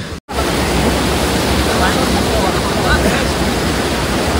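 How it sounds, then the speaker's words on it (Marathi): Steady broadband rush of flowing water on the Harishchandragad trek after rain, loud and continuous, with a brief dropout near the start and no voices. "आता सध्या एवढं पाणी चालू आहे इथं."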